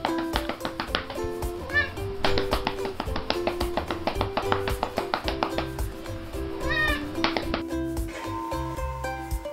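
A house cat meows in short, repeated calls against a busy musical backing with light tapping, the cries rising and falling a few times.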